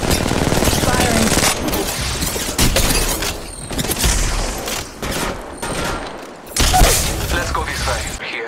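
Rapid bursts of automatic gunfire from the mobile battle royale game Apex Legends Mobile, loud and near, with booms and thuds mixed in and a voice talking over the shooting.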